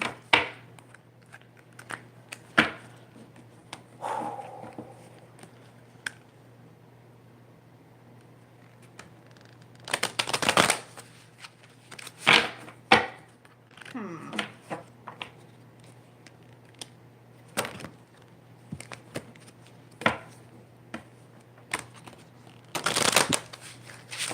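Repeated crisp bursts of card shuffling, each riffle a rapid flutter followed by pauses and lighter handling noises, close and clear in a quiet room.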